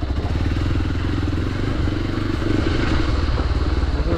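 A Hero Xpulse 200 motorcycle is ridden, its engine giving a continuous loud rumble with rhythmic low pulses and some rattling, with no voices over it.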